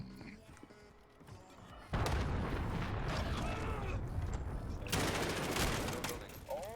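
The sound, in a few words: cruise missile strike and gunfire in Call of Duty Modern Warfare video game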